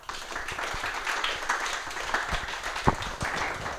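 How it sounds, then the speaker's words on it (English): Clapping from an audience at a panel forum comes through fairly faint and steady, with scattered sharper claps over a background murmur. "this audience is very generous with the clapping"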